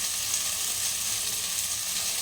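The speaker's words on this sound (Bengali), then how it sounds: "দুটো আলুটাকে এইভাবে ভেজে নিতে হবে" Potatoes seasoned with turmeric and salt fry in a pan with a steady, close, unbroken sizzle and no voices.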